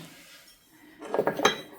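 Plant pots handled in a gardening setting, knocking and clinking together in a short cluster of bright, close knocks in the second half after a quiet start.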